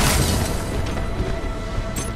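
A heavy cannon shot fired in Titanfall 2 gives one deep, booming blast, followed by a dense rumble of game-combat noise that fills the two seconds, with a brief sharp crack near the end.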